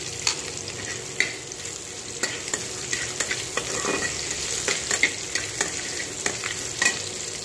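Chopped garlic and ginger fry in a pan with a steady, bright sizzle, punctuated by repeated clicks and scrapes of a spoon stirring against the metal, all close and without voices.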